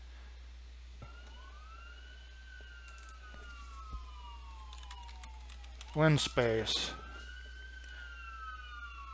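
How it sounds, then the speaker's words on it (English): Distant sirens wail and sweep in pitch over a low hum, with a brief burst of nearby speech and faint clicks partway through. "I waited for those sirens to go by"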